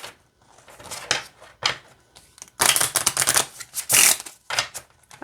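Riffling shuffles of a 24-card rune deck in quick bursts, crisp rapid flutters separated by short pauses, close and fairly loud.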